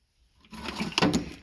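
A drawer of a tool chest, holding annular cutters, twist drills and hole saws, slides open with a close, rattling metallic rumble lasting about a second.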